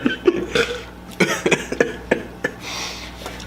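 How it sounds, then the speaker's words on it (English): Several wet, bubbly burps from a person feeling sick after eating cheeseburgers in an eating challenge, coming in short irregular bursts close to the mic, with no talking. "My burps are coming up bubbly"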